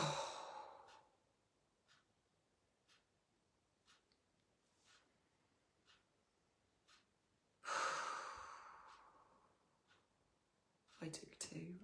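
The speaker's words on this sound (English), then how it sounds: "So I'm going to take a full breath with you." Two full, deep breaths taken close to the mic, each a long audible sigh-like exhale, separated by several seconds of near silence with faint soft ticks.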